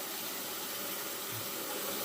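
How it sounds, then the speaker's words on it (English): Water runs steadily from a tap during a wet shave, a soft, even hiss of flow that stays faint and unbroken, with no voices over it. "I'm just letting some out of the tap, running some water"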